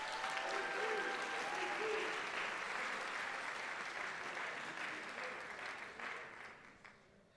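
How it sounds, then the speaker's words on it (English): An audience applauds a returning track athlete, a 400-meter hurdler, at a college athletics year-in-sports event: sustained dense clapping from a crowd that holds steady, then tapers and fades toward the end. "Let's give Toby a round of applause."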